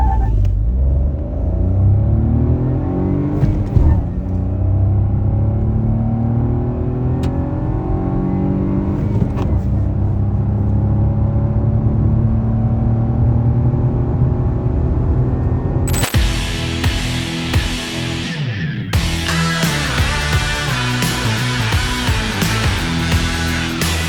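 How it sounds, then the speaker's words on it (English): A 2024 Maruti Suzuki Swift with a manual gearbox accelerates hard from 0 to 100, its engine rumbling and climbing in pitch through the gears, followed by louder, rougher cabin and road noise near the end. "Now let's see how well this car performs in terms of its 0 to 100"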